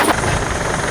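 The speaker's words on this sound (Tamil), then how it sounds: "கப்பல்கள் மீது ஹெலிகாப்டர் விமானங்களை தரையிறக்கும் பயிற்சிகள்" A helicopter roars loudly and steadily during a naval exercise in which helicopters land on ships, a continuous close rotor and engine wash with no pause.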